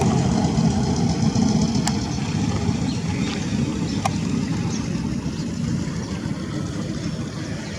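A fishing boat engine drones steadily and loudly on a river in a Bangladesh border area, a continuous low rumble with faint clicks over the top.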